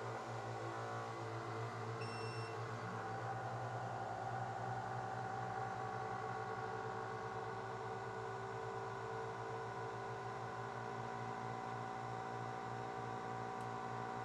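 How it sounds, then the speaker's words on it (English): A chamber vacuum sealer runs with its lid shut, sealing an open bag of portioned meat: a steady, loud mechanical pump hum with stable tones, continuous for the whole stretch, with a few faint beeps near the start. "And it will vacuum seal it."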